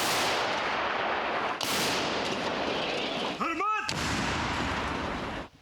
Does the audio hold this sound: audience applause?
no